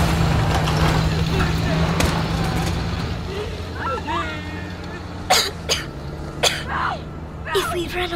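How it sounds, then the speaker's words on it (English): Several short, sharp coughs burst out near the end of Call of Duty: Modern Warfare gameplay, following a stretch of rumbling engine noise and muffled voices. "They'll hear you coughing."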